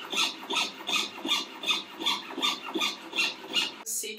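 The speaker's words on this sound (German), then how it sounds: "Und wie schneidest du die aus? Mit der Säge." A jeweler's saw cuts through a coin with steady, evenly spaced rasping strokes, close and fairly quiet, ending with a brief sharper scrape.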